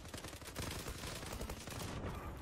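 Rapid automatic gunfire from an M468 rifle in the online shooter Zula, a dense continuous burst of loud close shots running the whole moment with no speech.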